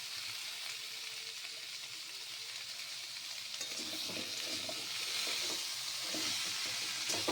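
Sliced banana stem going into hot oil while cooking a rohu fish curry with curry leaves, a steady soft sizzle with louder bursts of frying and some stirring in the second half.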